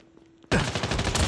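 Light machine gun firing in a video game: a near, loud continuous burst starting abruptly after a moment of quiet and running steadily to the end.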